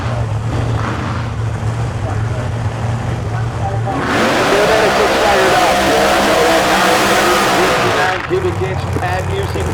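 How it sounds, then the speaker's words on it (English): Pro Mod nitrous drag racing car with a 959 cubic inch Pat Musi engine revving hard at a St. Louis drag strip, a loud sustained roar swelling mid-clip over crowd and track noise, with an announcer talking. "No better sound on the nitrous car."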